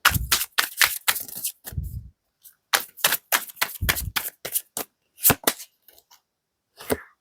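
Tarot cards being shuffled and handled while one is picked: a string of crisp, sharp snaps and flicks, some in quick clusters and others spaced apart, close and fairly loud, with short silences between and no talking.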